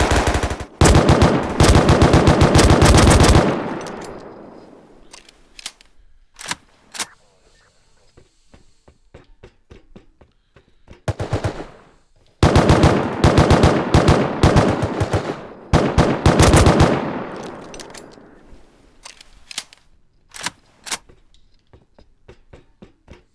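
Automatic gunfire from the video game Rust comes in loud, sustained bursts with pauses between them, followed by scattered single shots and quieter clicks.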